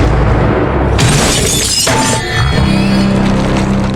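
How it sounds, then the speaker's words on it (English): A glass jar shatters in a sci-fi Alien: Earth scene as a creature strikes it with long tendrils: a loud, sudden crash of breaking glass followed by a dense, continuous rumble of debris and effects. "The creature began striking the glass with its long tendrils."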